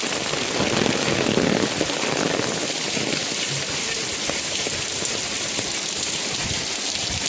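Heavy rain pours steadily on a Mumbai street, a dense, loud hiss of drops hitting surfaces all around, continuous for the whole stretch with no voices.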